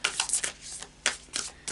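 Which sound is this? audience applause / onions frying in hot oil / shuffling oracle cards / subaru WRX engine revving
shuffling oracle cards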